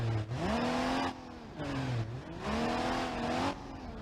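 A modified truck on 42-inch Super Swampers tires runs a hot lap in BeamNG.drive. Its engine revs up loudly and close by, climbing in pitch, dropping with each shift and rising again, about three pull-and-shift cycles in a row.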